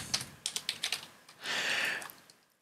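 Someone types on a computer keyboard while working in Wolfram software, a quick run of close, crisp key clicks followed by a longer burst of rapid keystrokes, with no talking.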